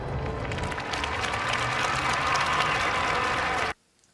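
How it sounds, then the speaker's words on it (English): Clapping in a film scene, a steady dense patter of many hands sustained for several seconds at moderate loudness before cutting off abruptly into near silence. "And who is clapping?"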